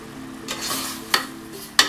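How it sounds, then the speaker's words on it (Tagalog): Water bubbles and hisses in a pan of cooking pork giniling, broken by two sharp clinks of a utensil against the metal. "Ayan, kumukulo na siya."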